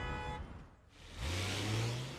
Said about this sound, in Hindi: अब हमें बस सुबह के ट्रैफिक जैम से निकलना होगा।